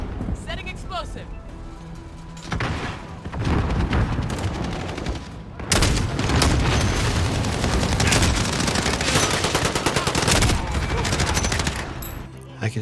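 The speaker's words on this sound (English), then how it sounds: "I can shoot through the chain link." Dense bursts of gunfire in a Modern Warfare shooter match, fired through a chain link fence; loud, rapid rattling shots with booming impacts stacked over each other, a voice talking underneath.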